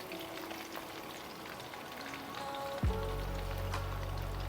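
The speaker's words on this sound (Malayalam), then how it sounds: "ദെൻ ഒന്ന് ഹൈ ഫ്ലെയിമിൽ വെച്ച് ചിക്കൻ ഫ്രൈ ചെയ്യുക." Chicken pieces fry in oil over a high flame, giving a soft, steady crackle and hiss. Near the end a sudden low rumble swells up under it.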